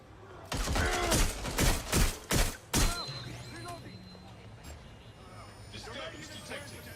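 Gunfire in Watch Dogs Legion: a rapid burst of about seven loud, close shots, followed by quieter game ambience with faint distant pops and traffic-like noise, with voices calling out over it.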